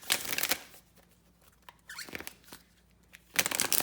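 Tarot cards are riffled and shuffled up close, with crisp bursts of fluttering paper separated by quiet pauses and small taps.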